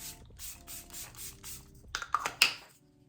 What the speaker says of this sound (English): I'm gonna spray again.